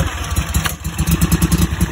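A commercial walk-behind lawn mower's engine runs loud and close, with a rough, steady, chugging putter after the pull-cord start.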